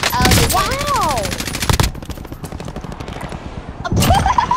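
Rapid automatic gunfire from the Call of Duty Modern Warfare video game, Plunder mode, rattles loudly in a sustained burst, pauses through a quieter stretch, then resumes with another close volley.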